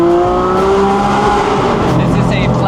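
A Porsche 997 GT3 RWB with a 4.3-liter flat-six drives close by, its loud engine note climbing and then dropping into a rough, busy roar, with a voice briefly over it.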